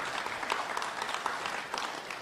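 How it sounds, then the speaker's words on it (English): An audience applauds a minister at a formal address, with dense, steady clapping from many hands, even in level and fairly distant, without any voices. "Another round of applause for the minister"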